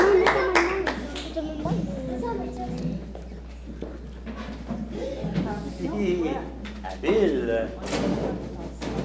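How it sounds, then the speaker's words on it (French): Studio audience at a televised quiz show clapping for the players after the final, with a crowd's applause running under voices that speak over it throughout. "on va reprendre les applaudissements"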